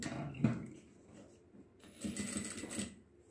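A sewing machine stitches piping onto a slit kurti in a quiet room, giving short, faint mechanical clatters in two brief bursts with a pause between them.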